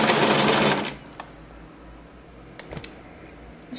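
A sewing machine runs a fast, steady stitching whir while hemming a frilly edge with nylon thread. It stops after about a second, followed by a few faint clicks and mechanical taps.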